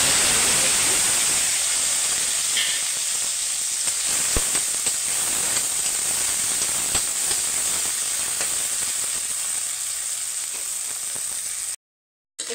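Small shrimp frying in a karai for a papaya curry, giving a loud, continuous sizzle and hiss close by, with a few faint clinks, no talk, ending in a brief cutoff.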